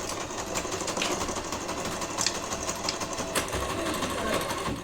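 A sewing machine stitches the seams of a child's two-compartment school pencil case, running in a steady continuous whir for the full stretch at close range with no voices.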